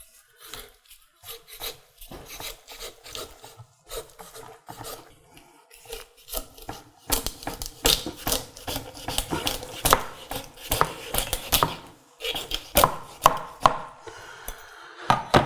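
Shears or a knife cut through the backbone of a turkey being spatchcocked, with irregular crunching, snipping and scraping that starts sparse and grows denser and louder, close up with no speech.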